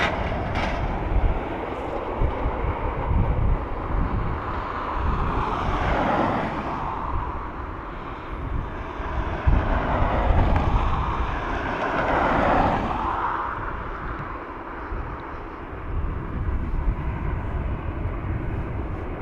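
A passenger aircraft landing at Dublin Airport gives a broad, steady engine roar that swells and fades in waves and holds loud and near throughout, with no talk over it.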